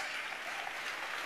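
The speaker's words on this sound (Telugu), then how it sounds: "చప్పట్లు కొడుతూ స్తోత్రాలు చెప్తాం" A church congregation claps hands in praise, a dense, steady round of applause that is faint and brief, with no talking.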